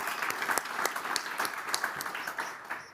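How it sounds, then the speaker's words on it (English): Applause for the speakers at the end of a conference session on munition clearance, a moderately sized audience clapping with distinct individual claps, fading out toward the end. "A warm round of applause for our guests, our speakers."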